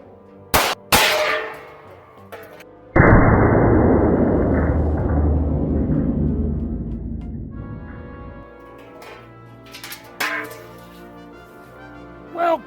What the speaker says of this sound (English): The idea is we got 8 shots. We want 16 holes. We want through and through